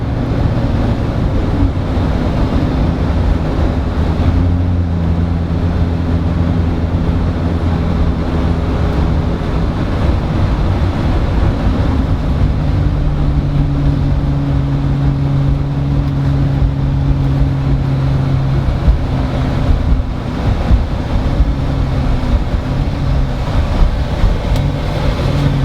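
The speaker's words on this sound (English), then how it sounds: "Definitely hear the exhaust push out." A Jeep Wrangler JL or Gladiator JT gives a steady, loud engine rumble with a low droning exhaust note that shifts pitch slightly as it accelerates and cruises.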